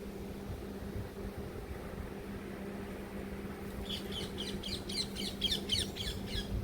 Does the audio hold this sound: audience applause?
no